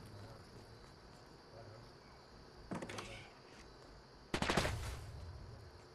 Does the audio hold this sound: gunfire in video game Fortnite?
yes